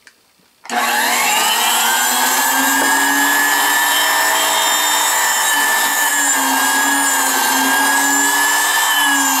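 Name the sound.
sensitive drill press drilling brass at 17,000 RPM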